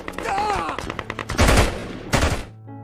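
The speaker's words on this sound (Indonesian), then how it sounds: "Marius pun tertembak" Bursts of gunfire from a war film set against Taliban forces: rapid automatic fire and heavy blasts crackle over a tense music-and-effects mix, with two loud booming hits near the end.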